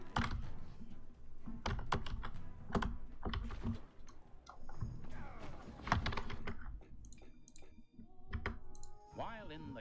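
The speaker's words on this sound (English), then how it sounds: "How will you know how hard I'm gaming if you can't hear my keyboard?" A computer keyboard clatters during gaming, with bursts of fast clicky keystrokes and heavier key thumps. Game sounds chirp in the background.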